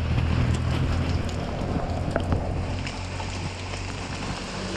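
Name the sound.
rain falling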